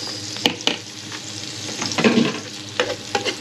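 Onions tipped into a hot pan and frying for pancit, a close, moderate sizzle broken by a few sharp clanks and scrapes of stirring.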